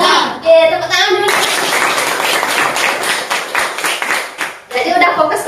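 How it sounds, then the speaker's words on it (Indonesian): A fifth-grade classroom of children claps hands together in a loud, busy burst of many small hands. Children's voices are heard briefly before and after the clapping. "tepuk tangan dulu"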